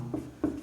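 Two short scraping strokes of chalk or marker on a board during a Class 10 maths lesson on linear equations, close and fairly quiet, with no talking between them.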